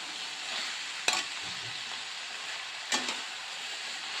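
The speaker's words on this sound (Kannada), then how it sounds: "ಈಗ ಅದನ್ನು ನಾನು ಇಲ್ಲಿ ಹಾಕಿ ಫ್ರೈ ಮಾಡ್ತಾಯಿದ್ದೀನಿ" Chopped eggplant sizzles steadily in a hot pan, with two sharp scrapes of a spatula stirring it against the pan; quiet and close, without talking.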